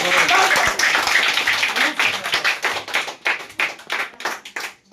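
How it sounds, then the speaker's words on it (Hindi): Quiz participants clap after a correct bonus answer, a dense burst of handclaps that thins into scattered claps over a few seconds, with talk mixed in. "ताली बजाओ"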